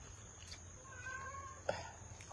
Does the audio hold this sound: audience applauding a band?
no